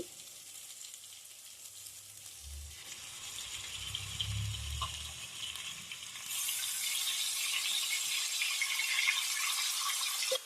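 Raw chicken, two kilograms, tipped into a pan of fried spicy paste for a tamarind-leaf chicken curry, with a brief low thud followed by a steady, rising sizzle that grows louder and hissier toward the end, no talking.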